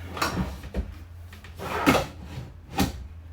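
Built-in wooden drawers in a 2025 Wildwood 31KQBTS bunkhouse travel trailer sliding open and shut, four or five close, distinct thumps and rolling slides.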